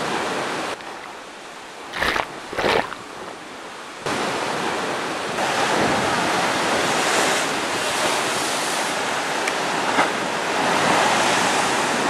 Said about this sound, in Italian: Cos'è il mare in tempesta?